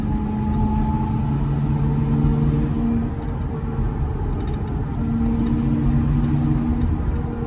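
A bus moving at slow speed gives off a steady, tonal mechanical whine that rides over a constant engine and road rumble, holding even throughout with no voices.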